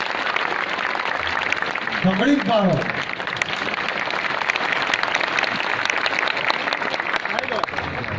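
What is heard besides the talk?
crowd applause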